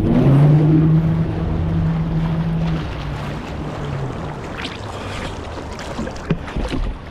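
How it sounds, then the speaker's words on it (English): A motorboat on a lake towing a wake surfer roars loudly as the throttle is floored, its engine drone dropping away into rushing water, wind and hull splashing. "Having other people drive the boat is always fun. He literally floors it."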